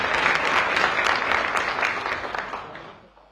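Studio audience at a televised Hindi panel discussion on Delhi air pollution applauds to welcome guests, a steady dense wash of clapping that holds for about three seconds and then tapers off.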